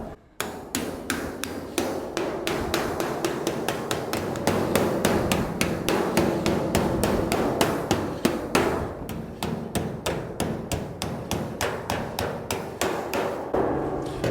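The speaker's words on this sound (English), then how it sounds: "I'll take that wooden hammer, I'll bring this around" A wooden hammer striking the sheet-metal body of a 1938 custom Cadillac in a workshop, close up, with steady rhythmic blows of about three per second and a brief pause midway.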